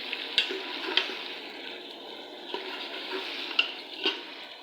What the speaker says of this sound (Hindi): इनको फ्राई करते रहना है थोड़ी देर तक के लिए